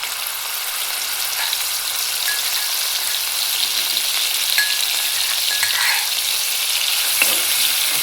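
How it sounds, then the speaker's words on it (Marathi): Crushed, finely ground green chillies dropped into hot oil for a Maharashtrian dill (shepu) bhaji, giving a loud, dense, continuous sizzle with a few faint clinks, close by and without speech. "आता आपण हे वाटलेले हिरव्या मिरच्या टाकूया बारीक केलेले"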